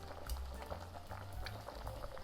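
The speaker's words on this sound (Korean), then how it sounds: "이렇게 버글버글 끓고 있어요." Korean tangguk soup with scallions and kelp bubbles in a pot at a rolling boil, giving close, soft, irregular popping and gurgling at low volume.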